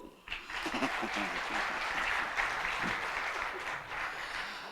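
Steady, dense applause from the audience at a Christmas celebration after a drama performance, sustained throughout while a voice talks over it.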